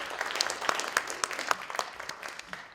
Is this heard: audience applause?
yes